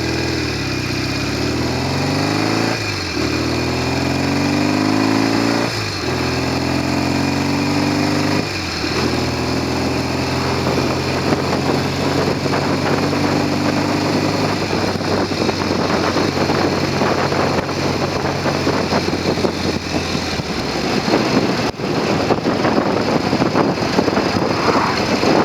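A Norton Commando 750 motorcycle engine with a tickover fault idles steadily and close up, its revs dipping in several stepped drops before settling into a lower, even idle, with no talk over it.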